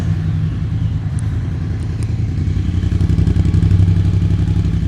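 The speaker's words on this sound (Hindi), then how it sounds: "पर इसको मैं आपको एक बार क्रैंक करके आपको इसकी आवाज़ में सुनाता हूँ।" A Triumph Speed Twin 900 motorcycle engine idles steadily close by, giving a loud, even low rumble with a fast throbbing pulse and no voices.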